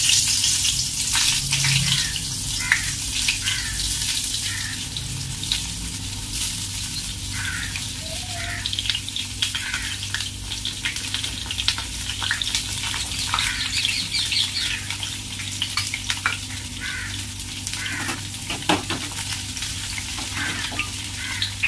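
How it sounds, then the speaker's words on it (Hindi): Sliced eggplants frying in hot oil in a pan for a stuffed bharma baingan dish, giving a steady, dense sizzle and crackle that runs throughout, with faint background chirps and no talking. "हमारा तेल अच्छे से गर्म हो गया है, तब हम इसमें हमारे जो बैंगन है वो छोड़ देंगे"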